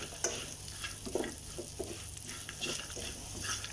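Chicken frying in a pan with coriander powder, a soft steady sizzle with occasional stirring scrapes, quiet and close, no voices.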